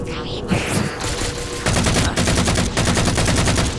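Sustained automatic gunfire from the video game Halo 4, dense rapid bursts that intensify partway through into a loud continuous barrage of shots, with no talking.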